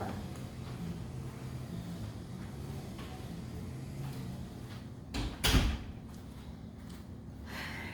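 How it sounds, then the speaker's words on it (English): A door is swung shut indoors, giving a single muffled thud with a short rattle past the midpoint, against a steady quiet background with faint outdoor yard-work noise. "Let me close the door."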